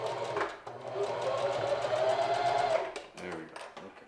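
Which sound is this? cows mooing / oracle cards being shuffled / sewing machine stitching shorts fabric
sewing machine stitching shorts fabric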